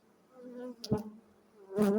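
Honeybees buzzing at an opened hive, a close, droning hum with a couple of louder swells as bees pass near, heard alone without talk.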